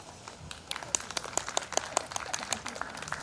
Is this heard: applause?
yes